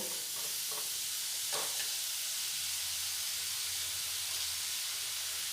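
Potatoes fry in a pan with a constant soft hiss of sizzling oil, while a few stirring scrapes come early and a low hum sits underneath, with nobody speaking.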